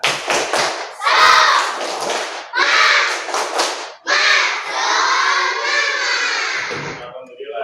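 A class of schoolchildren performs a rhythmic tepuk semangat clapping chant, with loud bursts of unison shouting punctuated by sharp claps in quick patterns, close and energetic.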